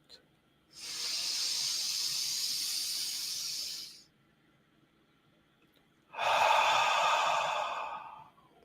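Two long, deep exhalations during a guided group breathing exercise, each a broad airy hiss lasting several seconds, separated by a quiet pause, close and fairly loud with no talking.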